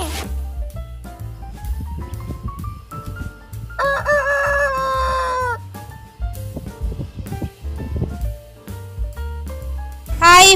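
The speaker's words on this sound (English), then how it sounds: "H for hen." A rooster crows loudly and close in one long rising call, followed by a hen's clucking over a steady musical backing, with another crow starting near the end.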